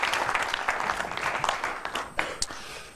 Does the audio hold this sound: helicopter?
no